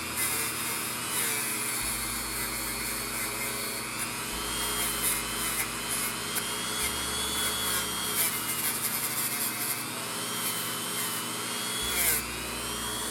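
Fine-grit sanding during a Chaparral 2G restoration gives a continuous, humming motor whine whose pitch wavers slightly, with faint rough scraping underneath.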